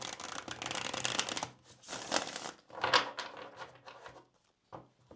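Tarot cards being shuffled by hand, a close, brisk riffling and flapping of the deck in several bursts that taper into softer, quieter handling near the end.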